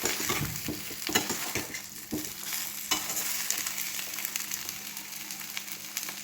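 Turmeric-coated bitter gourd slices fry in a pan over medium heat, giving a steady close sizzle as a spoon stirs and scrapes through them with irregular clicks, strongest in the first couple of seconds.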